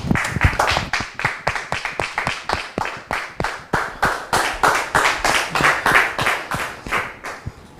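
A studio audience applauds to welcome a guest on a French television talk show, a steady run of loud, rhythmic, fairly synchronized clapping that continues for several seconds with no talk over it.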